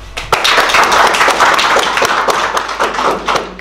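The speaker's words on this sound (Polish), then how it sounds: "Gorące brawa!" A live audience at a Lublin discussion salon applauds two guests as they are welcomed; brisk, close clapping starts abruptly and holds steady for several seconds, with a few louder individual claps standing out.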